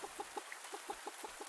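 Rapid, evenly spaced clucks from chickens in a farming video game, a quick rhythmic string of soft calls heard alone and fairly faint.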